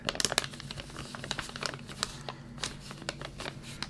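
Small clear plastic parts for an Airfix 1/72 Northrop P-61 Black Widow model kit rustle and tick inside a little plastic bag, a run of close crinkles and light clicks as the bag is handled, with no talking.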